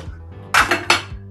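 Metal kitchen pot lids clinking together while being sorted, three bright clanks in quick succession over a faint low hum, close and fairly quiet.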